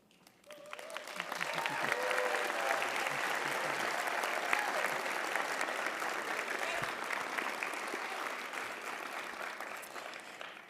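Audience at a graduation ceremony breaking into sustained applause, a dense wash of clapping that swells quickly, holds for several seconds, then tapers off.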